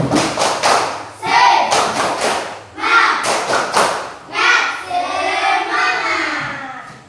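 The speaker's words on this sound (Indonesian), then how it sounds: "tepuk semangat" A classroom of children performs the rhythmic 'tepuk semangat' spirit clap, loud bursts of patterned clapping and thumps in several phrases, with kids chanting along between and over the claps.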